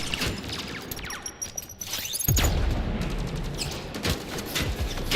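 Sci-fi gunfire in the shooter game Mass Effect Andromeda: a rapid burst of shots crackling through the first seconds, then a heavy boom and continued loud firing and impacts in a dense, chaotic firefight, with no talk.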